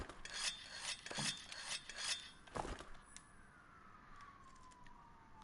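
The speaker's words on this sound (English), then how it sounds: "I don't know why I'm sharpening that." Scraping rasp of a weapon being sharpened on a whetstone in Monster Hunter World, several rhythmic grinding strokes over game ambience, followed by a fading tonal whine.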